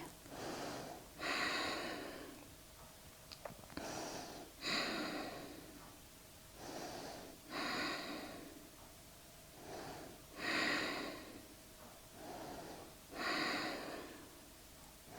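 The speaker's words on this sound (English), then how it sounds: "Inhaling and exhaling." Slow, deep yoga breathing during a Hatha yoga class, with long audible inhales and exhales that alternate at an even, unhurried rhythm, close and fairly soft, and no talk over the breaths.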